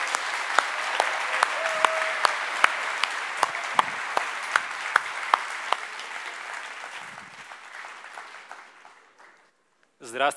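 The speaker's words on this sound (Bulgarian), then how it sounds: "Вашите аплодисменти за него." Sustained applause from a crowd with sharp individual claps standing out, gradually fading toward the end before a brief voice begins.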